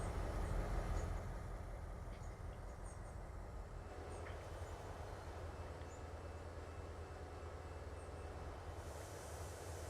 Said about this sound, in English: a lot more trains are moving this time around, I think